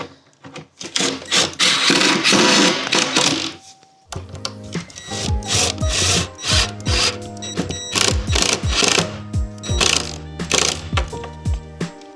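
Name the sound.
tightening clamps on a kitchen hutch shelf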